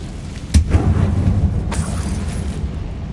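Confringo explosive spell blast in the game Hogwarts Legacy, a low booming impact with a rumbling tail, followed by a second fainter burst inside a tomb-like mine.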